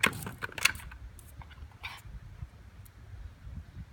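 A dog heard faintly at a distance in a garden, a couple of sharp yips or barks at the start, then quiet whimpering sounds over low background noise.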